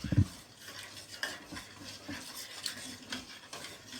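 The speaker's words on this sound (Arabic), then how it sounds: "تفضلي تقلبي فيه لغايه ما يغلي" Homemade rice pudding stirred in a pot on the stove, with a utensil scraping and swishing steadily against the metal, clinking near the start, and a soft simmering hiss underneath, without any talking.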